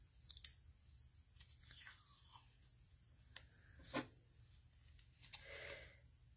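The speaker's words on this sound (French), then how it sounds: "je ne sais pas si vous avez ces ciseaux-là de Tmall" Scissors cut washi tape up close and quietly, producing a series of soft snips and crisp scraping slices spread unevenly over several seconds against a faint background.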